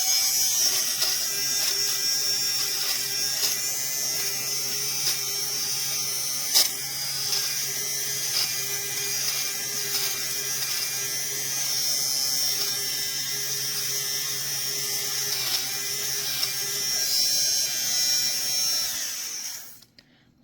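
A small electric fabric shaver buzzes steadily as it removes lint balls from a hood, a close, continuous high whirr with faint scraping ticks, cutting off abruptly near the end.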